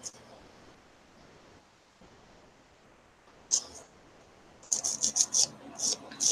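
A 100 grit file shapes gel nails, producing close, quick bursts of dry rasping strokes in the second half after a quieter stretch.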